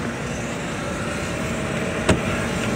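A car engine idles steadily with exhaust rumble, close and continuous, while a brief click or thump cuts through near the end.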